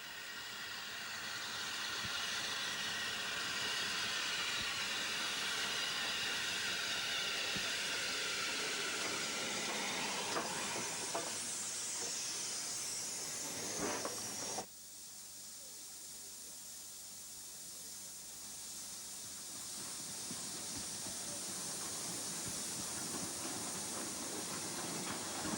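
Steam train on a preserved railway deep in Cropton Forest, North Yorkshire, heard as a steady loud hiss and rumble of steam and rolling wagons that drops suddenly partway through to a quieter, continuing broadband wash.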